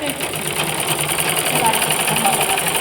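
Sewing machine stitching a blouse, a loud, rapid, even mechanical rattle running throughout at close range.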